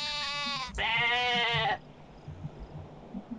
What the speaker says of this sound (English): Just grabbing sheep and setting them down.